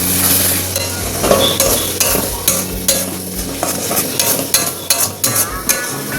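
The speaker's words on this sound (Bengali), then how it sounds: "এবার এটাকে ভালো করে নেড়ে নিতে হবে" Potatoes coated in a homemade spice mix are stirred in a pan for a vegetarian aloo dum, with loud, close, repeated spatula scrapes over a light sizzle and no talking.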